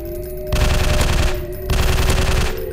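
Rapid bursts of automatic weapon fire in a zombie shooting video game, two long sustained volleys separated by a short pause, loud and close with a steady tonal hum underneath.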